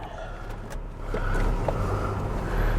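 Land Rover Discovery 4 creeping slowly downhill off-road over a former muck heap, a low steady engine rumble with faint rolling noise that swells slightly toward the end, close and continuous.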